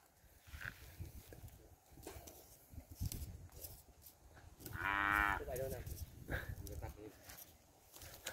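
Cattle grazing on a farm in the evening, with a loud, close moo near the middle and quieter lowing later, over shuffling hooves and outdoor rustle, with people talking in the background.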